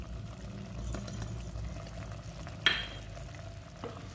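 Spices being stirred into minced mutton and potato in a pan make a soft, continuous low sizzle with faint stirring scrapes and a brief utensil clink partway through, with no voices.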